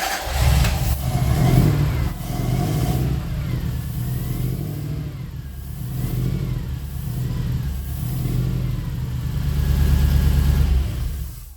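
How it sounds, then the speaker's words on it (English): A Toyota Hilux engine, still fitted with a faulty wiring harness and running on only four cylinders, catches and runs close by, its rough mid-pitched idle swelling and falling in uneven revving pulses with no one talking. "But the engine will run again. So now I've got to go get the keys so I can start this thing."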